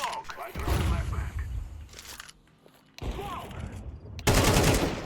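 Gunfire in Counter-Strike 2: bursts of loud, sharp automatic shots with brief gaps, including a final heavy volley, mixed with movement sounds and a person talking over the action.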